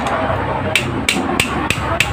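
Five sharp metallic hammer strikes, spaced about a third of a second apart, ring out over a steady low background hum as a bearing is tapped into place in a Yamaha Vega Force Fi motorcycle engine.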